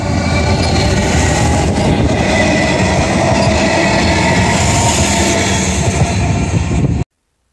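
A three-carriage Metro train passes on the Williamstown Line, a loud, steady rumble with a clickety-clack of wheels on rails, holding full strength throughout before cutting off abruptly.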